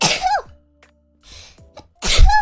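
A woman sneezes twice, close and loud, with a squeaky vocal catch after the first burst, a short quiet gap with faint breathing and small clicks, then a heavier second sneeze to finish.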